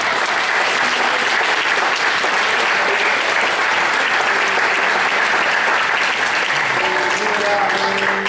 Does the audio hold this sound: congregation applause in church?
yes